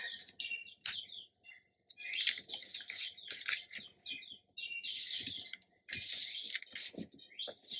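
Paper being scored with a scoring tool to fold a 4x9 inch pocket for a Stamperia Sir Vagabond craft page, heard as a series of short, close scraping and creaking strokes separated by brief pauses.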